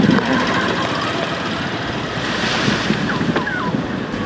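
Sea waves wash steadily onto a beach in Matnog, a continuous broad roar of surf mixed with strong wind buffeting the microphone, with no voices.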